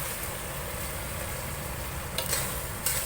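Chicken and dried chilies are stirred through a thickened cornstarch gravy in a hot pan, giving a steady sizzle with a few scraping stirs near the end and no voices.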